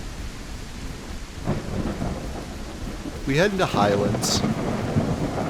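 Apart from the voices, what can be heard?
thunderstorm rolling in, from a dinosaur video game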